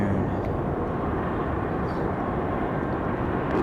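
An airliner taking off from runway 23 right at Raleigh-Durham International Airport, its engines giving a steady, loud broadband roar that holds for the whole stretch, with no voices heard.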